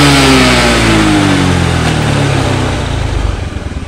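Engine of a carbureted Honda Beat scooter revving loudly on the throttle, close by, its pitch falling as the revs settle down over a few seconds, with no talk.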